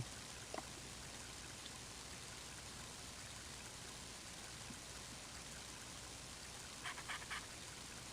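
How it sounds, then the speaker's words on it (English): Steady, quiet rainfall in the video game Mother 3 hisses continuously, with a few faint taps and drips standing out near the end. "Greeted with nothing but the sound of the rain"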